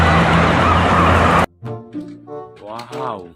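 A loud, dense ambulance siren wail in a video game blares for about a second and a half, then cuts off abruptly, followed by a voice speaking.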